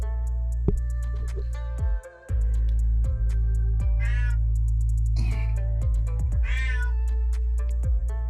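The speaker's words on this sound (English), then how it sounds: "Can you hear my cat freaking out in the background? She's going crazy." An agitated cat meows several times in the background, drawn-out wavering cries spaced a second or so apart over a steady electrical hum and scattered clicks.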